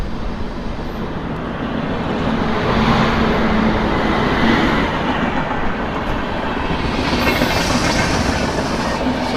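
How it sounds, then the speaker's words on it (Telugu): A train runs along the tracks close by, a steady loud broadband rumble with rhythmic clickety-clack from the rail cars. It is a passenger express on its route from Vijayawada to Chennai Central and holds constant throughout, with no talking. "ఈ ట్రైన్ మన వెనకాలే వస్తుంది."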